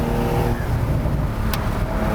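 Porsche convertible with a manual transmission, its engine holding a steady, loud droning note with no voices over it.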